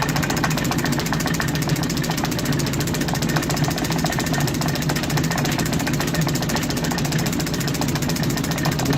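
Steady metal-cutting drone of a lathe taking a facing cut on a tailstock quill locking lever, a continuous even whir with fine rhythmic chatter that holds at one level throughout with no talk.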